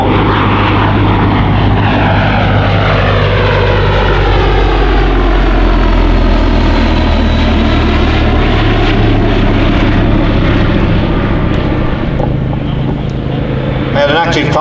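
Gloster Gladiator biplane flying at the Shuttleworth air show, a loud droning propeller engine with sweeping pitch changes as it passes overhead, heard under continuous commentary.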